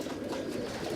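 Pigeons in a loft with Teddy and other breeds, one soft, low cooing murmur held for a moment at moderate distance.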